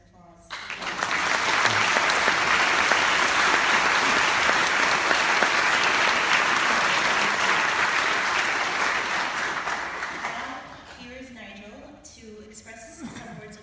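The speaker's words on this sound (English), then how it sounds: "I think that deserves an applause." Sustained applause from an audience at an Oman natural heritage lecture, a dense, loud wash of many hands clapping for about ten seconds before fading into scattered claps and murmuring.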